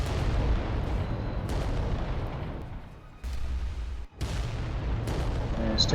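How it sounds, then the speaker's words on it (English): Volcano cannons fire in the Adeptus Titanicus: Dominus video game, making heavy, sustained booming rumbles with a couple of sharp cutoffs and a fresh blast near the end, loud and dense with no clear talking. "It's the power of the volcano cannons."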